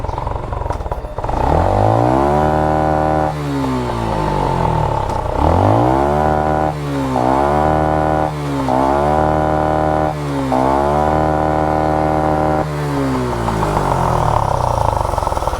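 A motorcycle engine revved repeatedly up and down at close range, each climbing roar falling back to idle in a regular cycle, loud and continuous for the whole span.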